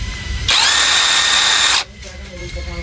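An AP78 Pro Max cordless impact driver runs at a steady high whine for about a second and a half, loud and close, then cuts off, leaving quiet room noise.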